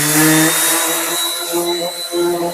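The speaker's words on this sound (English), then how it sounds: "I'm going to sand it down with some 80 grit." Wood edges being sanded with 80 grit sandpaper while making a cutting board riser, a steady loud abrasive rasping that runs the whole time with slight rises and dips in intensity, alone with no talk.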